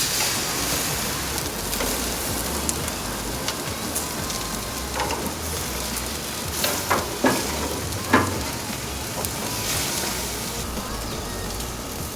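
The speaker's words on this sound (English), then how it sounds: "Grill the pork chop 4 to 5 minutes each side or until the internal temperature reaches 145 degrees Fahrenheit" Pork chop on a hot outdoor grill, a steady crackling sizzle that runs throughout, with a few sharper pops and spits standing out, close and without talk.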